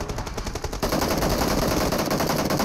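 Video game gunfire, a dense, loud rapid automatic burst that continues without a break.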